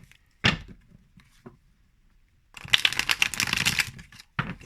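Grimaud tarot cards are shuffled by hand: a few sharp taps, a quiet pause, then a dense riffling burst lasting about two seconds and a final snap, close up with no talk.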